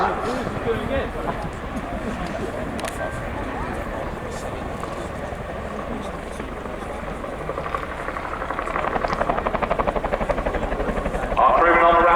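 Chinook twin-rotor military helicopter approaching and settling in to land at an air display, a continuous loud rotor thrum and engine roar that grows heavier toward the end, with a voice talking over it.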